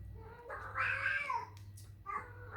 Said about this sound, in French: Vous avez compris, j'ai un chat.